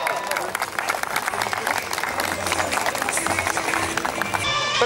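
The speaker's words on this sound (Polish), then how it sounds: "Wielkie brawa!" Crowd at a children's day sports event in Koszalin applauds as a former footballer is introduced, brisk dense clapping with faint voices and cheers mixed in, continuing steadily throughout.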